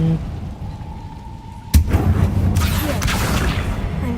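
A fire spell cast in the video game Hogwarts Legacy bursts in with a sudden loud blast, then a sustained crackling, roaring rush lingers for several seconds.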